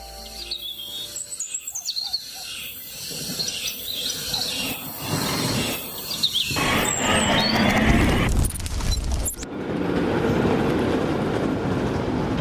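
A modern tram on Beijing's Xijiao line runs between the Summer Palace and Fragrant Hills. Its rolling rumble grows louder in the second half, with birds chirping over it early on and no speech.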